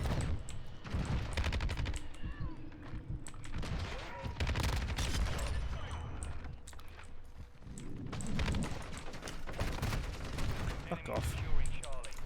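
Rapid bursts of automatic fire from a Lachmann-556 rifle in a video game, repeated strings of crackling shots running almost continuously at moderate loudness, with a voice talking over parts of it.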